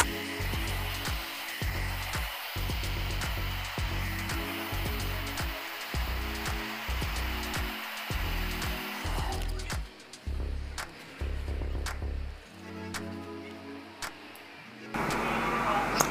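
A handheld hair dryer blows steadily while a brush works through hair during a blow-dry, the drone continuous and close. Soft ticking and brushing run under it, and it briefly cuts out near the end.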